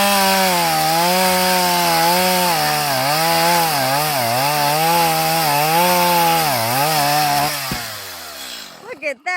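A saw cuts through a bamboo stalk, giving a loud, steady buzzing drone whose pitch wavers as it bites. It runs nearly continuously before cutting off abruptly near the end.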